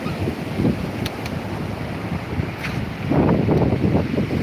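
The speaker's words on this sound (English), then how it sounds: "What you can hear is the sea hitting the seawall and hitting the rocks." Sea waves break steadily against a seawall and rocks on a windy shore, producing a continuous loud rushing wash with surges, under heavy wind buffeting on the microphone.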